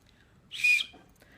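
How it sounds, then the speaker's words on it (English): A single short, shrill referee whistle blast at a Super Bowl American football game rises out of a quiet background and cuts off after a moment. "they both have the whistle"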